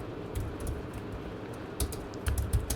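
Code being typed on a computer keyboard: clustered, uneven key clicks and taps at close range, with short bursts and pauses, no voice.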